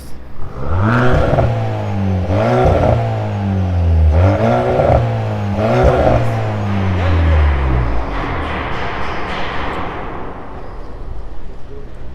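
Volkswagen Golf 8 1.5 eTSI with a remote-controlled exhaust set to loud mode, recorded outdoors: four strong rev blips in quick succession, then a longer climb that fades into a low idle rumble and ambient noise.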